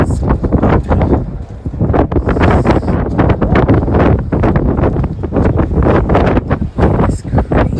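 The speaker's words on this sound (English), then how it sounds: "It's so windy here." Strong gusts at Hoover Dam batter the microphone in loud, irregular rumbling bursts that swell and drop again and again, with heavy low buffeting throughout.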